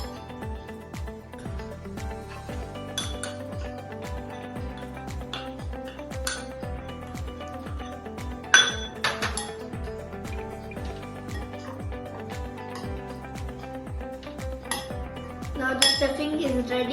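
A spoon working sandwich stuffing around a bowl, making repeated clinks and scrapes of metal on the dish in a steady stirring rhythm, close and alone with no talk.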